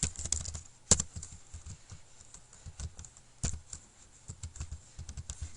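Close, moderately loud typing on a computer keyboard while HTML code for a social links page is written. Irregular key taps run throughout, with a few sharper clacks standing out.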